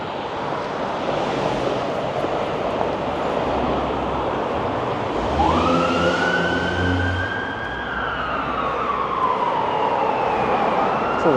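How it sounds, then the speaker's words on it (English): An ambulance siren passes along a Toronto street during the Beaches Easter Parade, rising out of steady traffic rumble into a loud wailing sweep that slowly falls away, with no one speaking. "Ambulance."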